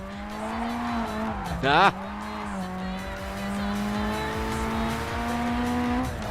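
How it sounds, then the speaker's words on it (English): Car with a 4A-GE engine in the JDM video game, a steady near engine drone with a sharp rising rev and brief tire squeal midway, then settling back to a constant tone; a voice speaks briefly. "At least they got the proper 4AGE engine sounds."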